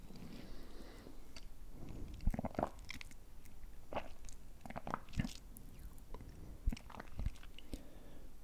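Close, quiet gulping and swallowing sounds, a few soft wet clicks and thumps spaced a second or so apart.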